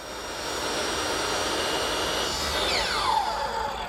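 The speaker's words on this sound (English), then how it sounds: "Now just swing the table back to 0, tip the saw to 0, and make a short, straight cut." A power saw cuts a short, straight line through wooden board, a steady, close, whining motor roar with the pitch shifting as the blade passes through the wood.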